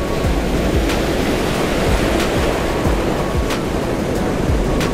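Ocean surf pounds a fishing beach, with big waves breaking in a loud, continuous roar of rushing water and a steady wash of spray, with no voices.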